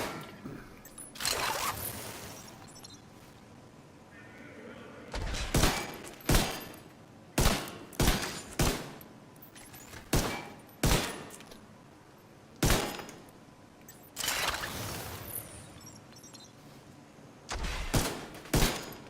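Pistol gunfire from The Division 2 video game: loud, sharp shots come in quick single bursts and short clusters, separated by pauses of quieter background noise.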